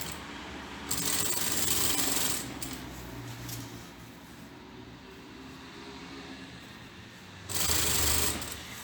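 A sewing machine stitches short seams on a straight skirt in two quick, loud bursts of rapid clatter, separated by a long stretch of quieter handling.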